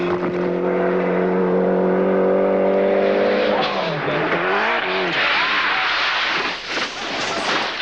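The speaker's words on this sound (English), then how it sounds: "Amazingly, after that multiple rollover, Wilson restarts the Escort's engine" A Ford Escort rally car on a special stage of the 1993 1000 Lakes Rally screams at high revs, then tumbles in a multiple rollover crash with loud crunching, scraping impacts, heard close up.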